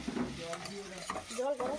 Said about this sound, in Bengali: আমি একে একে দিয়ে দিচ্ছি পেঁয়াজের পেস্ট, ওই তেলের মধ্যেই দিয়ে দেবো।